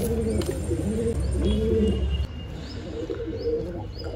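Pigeons coo in deep, repeated rolling phrases close by before a pigeon race, with faint chirps layered over a dense, steady background.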